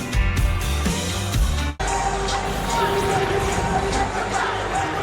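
Record stadium crowd at an Ole Miss versus Georgia college football game in Oxford, a loud roaring mass of cheering voices and band music, with an abrupt shift partway into a sustained broad crowd roar.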